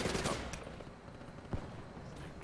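Gunfire from a gun in the first-person shooter ICR-1 Safeguard crackles in quick bursts, with a dense rattle at the start and another sharp shot midway, moderately loud over a noisy game background.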